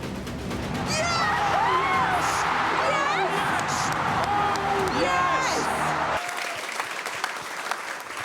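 Stadium crowd on its feet roaring and cheering an athlete going for a world record, with a dense wall of applause and whoops, loud and sustained before dropping away abruptly.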